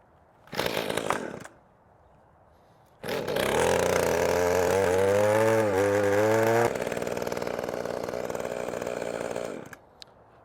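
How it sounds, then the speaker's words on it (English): A small Mantis tiller engine: a short burst on the first pull, then it fires up and runs with a rising, revving two-stroke buzz before settling and cutting off, alone and close. "Now that you've seen how well these tillers start and run, let me show you how well they till."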